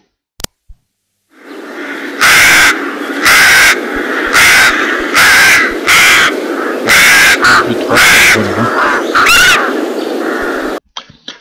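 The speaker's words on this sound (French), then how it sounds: "le corbeau se mit à croasser" A crow caws loudly and close by, a series of about eight harsh, rhythmic calls alone in a quiet setting, each caw rasping and evenly spaced.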